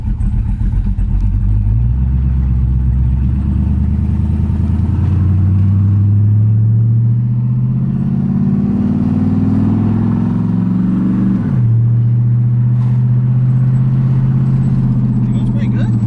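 A single cab truck fitted with a big cam engine drives along with a loud, steady, lumpy drone. The pitch rises as it gains speed, dips at a shift, then holds, and voices talk over it.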